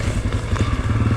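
A Honda CRF250F dirt bike engine runs with a close, throbbing low-pitched rumble, steady and pulsing for just over a second without any voice.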